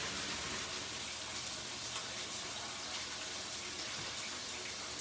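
Cold tap water gushes steadily over freshly cooked penne in a kitchen, a constant close splashing hiss with no voices.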